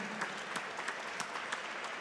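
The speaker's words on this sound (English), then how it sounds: "So please give them an applause for the winners of the Cyro Challenge 2019" Applause from the audience at a robotics awards banquet for the Cyro Challenge 2019 winners, a steady wash of clapping with a few sharper individual claps, fairly quiet and distant.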